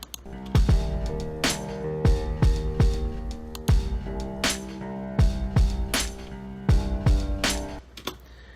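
A looping drum beat with deep, boomy kick hits landing in a steady pattern, crisp hits on top and a sustained tonal layer underneath.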